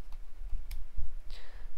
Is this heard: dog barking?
no